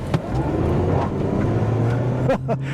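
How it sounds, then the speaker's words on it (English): A 2023 Toyota Prius XLE pulls away under full acceleration with a brief wheel spin, a steady close road and tire roar with a low motor drone, brief talk near the end. "I'm going to do a full acceleration test on the road, hopefully, but let's go."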